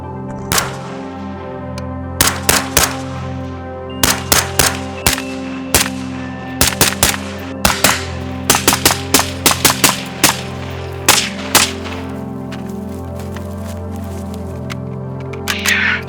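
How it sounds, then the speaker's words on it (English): A rifle fired in a controlled test, a long string of sharp, loud single shots in irregular clusters with steady background hum and no talking. "So from here, we'll do a controlled test fire and see if anything progresses."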